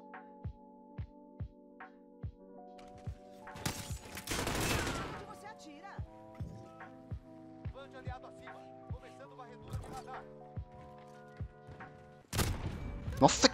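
Gunshots in the Modern Warfare video game, a series of sharp repeated shots with a couple of louder bursts, over steady background music.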